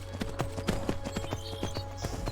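A horse's hooves clip-clopping in the video game Skyrim, a rapid run of close, crisp hoof strikes at an even trotting rhythm, with light game ambience in the background.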